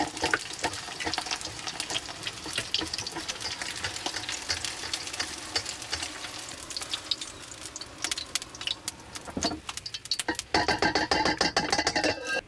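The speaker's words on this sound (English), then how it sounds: "John's mastered doing these eggs in the wok, which is very Thai style, really hot oil, so they go all bubbly and crispy" Eggs frying in very hot oil in a wok in a van kitchen, Thai style, a dense close crackling sizzle throughout with stirring and bursts of spitting near the end.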